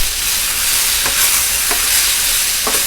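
Venison pieces browning in a frying pan, the hot sizzle steady throughout while a utensil stirs them, with three brief scraping strokes spaced about a second apart and no talking.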